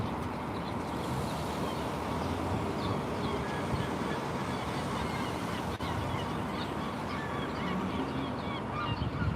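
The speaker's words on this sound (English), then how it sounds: "Just seagulls was the first bird that came to mind when I heard them squawking." Seagulls squawk continuously outdoors, with many overlapping calls at moderate distance over a steady background wash.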